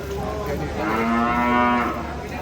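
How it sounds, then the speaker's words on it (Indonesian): A cow at the Celok cattle market lets out a long, loud moo, a sustained low bellow that rises and fades over about two seconds against steady background noise, with no talk over it. "Di sana juga ada sapi ngamuk ya."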